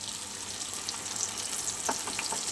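Pointed gourd fries in a pan with mustard and poppy seed paste, giving a steady close sizzle with a few brief stirring scrapes and no talk over it.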